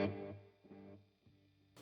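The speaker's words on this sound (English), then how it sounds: "Now you can unlink your delays right here and create like a stereo type of a delay." Stereo delay effect from a Universal Audio Ox amp box, a plucked guitar note followed by several fading, distorted repeats trailing off quickly.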